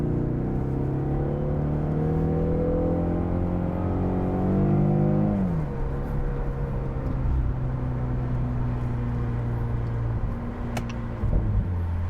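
A 2025 Ford Mustang EcoBoost engine hums at about 20% throttle through a short tunnel, its steady tones rising, then dropping with a gear change and settling into a smooth drone, loud and close.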